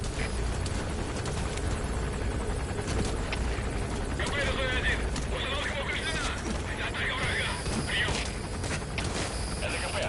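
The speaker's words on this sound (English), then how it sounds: "That's an enemy gunship." An enemy gunship helicopter from Metal Gear Solid 5 drones and thumps steadily under dense game noise. A radio voice speaks over it, and horse whinnies and hoof sounds mix in.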